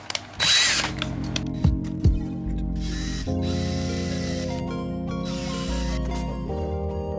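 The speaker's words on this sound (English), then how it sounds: "Okay, time to drill." A power drill revs up and runs steadily, drilling into a metal lock cylinder with shifting pitch, loud and close, with brief pauses and clicks at the start.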